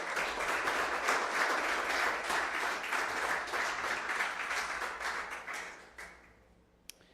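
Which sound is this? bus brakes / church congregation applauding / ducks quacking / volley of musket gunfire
church congregation applauding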